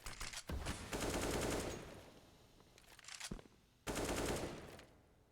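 Rapid bursts of AK rifle fire in Counter-Strike on the Mirage map, with two long sprays of automatic gunfire separated by a brief lull and a few single shots, loud and close.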